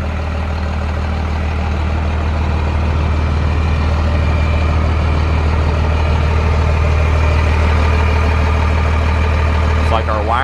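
A deep, steady truck engine idle rumbles loudly and continuously through an exhaust dumped near the axle, a low throbbing drone close by, with a brief faint chirp near the end.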